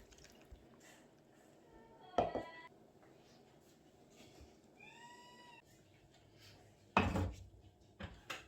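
A pot holding a strawberry jam mixture of strawberries, apple and lemon juice is set onto a stove, giving a clattering knock early on and a louder metallic clunk later over a quiet kitchen background, with a brief high chirping cry between.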